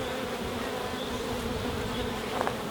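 Honey bees buzz on a queen excluder at a hive, a dense continuous hum of many insects close by, steady and unbroken with no voices.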